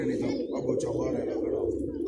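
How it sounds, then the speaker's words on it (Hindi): Pigeons cooing softly in a continuous low murmur, with voices talking over them throughout. "कबूतर वो जो उड़ रहे"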